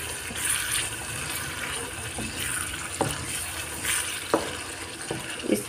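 Beef mince cooked with yogurt frying in a pan for keema gives a steady, dense sizzle, broken by occasional spoon scrapes and taps as it is stirred.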